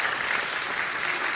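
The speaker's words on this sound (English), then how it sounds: "Let's give him a big round of applause." An audience applauds a pianist with a dense, even wash of clapping that carries at steady volume for a brief moment, with no voices over it.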